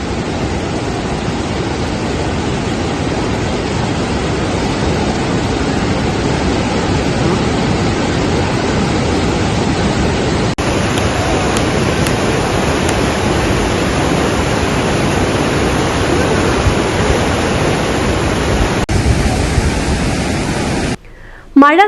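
Roaring rush of the Thoothapuzha river pouring through the opened shutters of the Kulukkallur Mappattukara check dam after early rains, a dense, steady broadband torrent close by and loud throughout, cutting off abruptly at the end.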